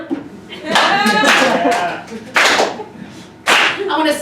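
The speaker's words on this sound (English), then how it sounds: "Big clap now." Comedy club audience at a sketch show claps in bursts, sharp loud swells of hand clapping with a voice mixed in between the bursts.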